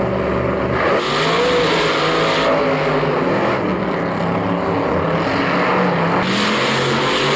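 Monster trucks staged for a Monster Jam final-round race in Orlando, 2016, their engines roaring loudly and continuously with a wavering, rising and falling pitch, close and unbroken throughout.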